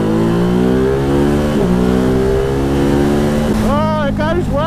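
Close, loud acceleration from a Ducati Hypermotard 950 SP on the road, its engine note climbing steadily through the revs, with a brief dip at a gear change and a rising whine near the end.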